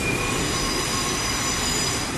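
An empty early-morning metro train runs steadily, its wheels squealing along the rails with a continuous broadband rumble and hiss, close and loud throughout, with no voices.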